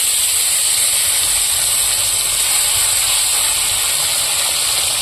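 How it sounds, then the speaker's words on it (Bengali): Bhola fish frying in a pan with oil, a loud continuous close sizzle with no talk. "তো এখন দিয়ে দেবো আমি ভোলা মাছগুলো।"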